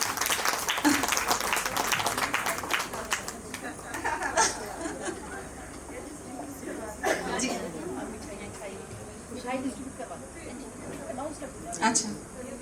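Audience at an office farewell and Hindi Diwas celebration gives a burst of clapping to welcome the NHPC CMD. The applause is loudest at first, then thins into scattered claps under chatter and some laughter.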